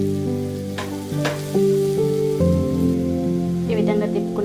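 Pea paste being stirred in a hot pan for a pani puri filling, giving a steady crackling sizzle with soft scraping strokes, close and moderately loud under a faint musical background.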